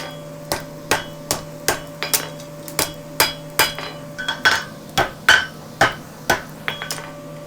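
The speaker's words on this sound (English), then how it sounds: "Hammer's hitting the same place" A hammer strikes metal in a steady rhythm while forging a horseshoe, about a dozen sharp ringing blows, close and loud, with a faint hum underneath.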